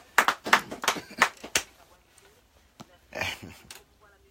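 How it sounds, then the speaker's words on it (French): A few people clap in a radio studio for Yolan during a live French-language interview. Several short bursts of hand claps come close and fairly loud, followed by a pause and a second, looser round. "On applaudit quand même. On applaudit pour Yolan."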